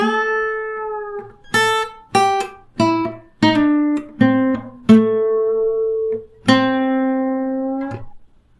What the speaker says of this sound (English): here's the entire guitar lick number 2